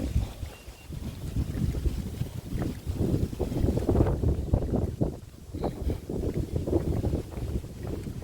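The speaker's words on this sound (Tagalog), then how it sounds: "Ang sarap ng hangin." Steady wind buffeting the microphone, a continuous low rumble with gusty swells throughout, no voices.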